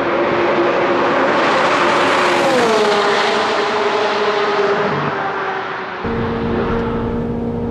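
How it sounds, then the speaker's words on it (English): A Corvette Z06 pace car's flat-plane crank V8 roars continuously at high revs on a track lap above 160 mph, pitch sweeping as it shifts, then dropping and settling into a steady drone, loud and close. "The sound of that flat blade crank V8!"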